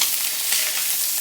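Spotted sea trout fillets sizzle steadily in a pan with butter and garlic, a close, continuous hiss of frying with no talking.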